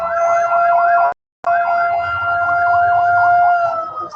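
An ambulance siren wails loudly and close by in a steady, repeating warble, briefly cutting out before resuming, with no speech over it.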